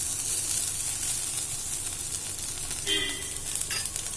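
Cooked rice being stirred into okra in a hot pan, a steady soft sizzle and scraping throughout with a brief higher clink near the end, close and alone without talk.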